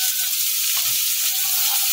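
Vegetables for a Bengali bitter gourd dish, including potatoes, fry in hot oil in a pan, giving a continuous loud sizzle with faint stirring underneath and no talking.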